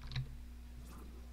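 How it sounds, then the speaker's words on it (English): Loud computer keyboard typing up close, a few quick clacks standing out over a steady low background hum during a game session. "my keyboard's very loud, isn't it?"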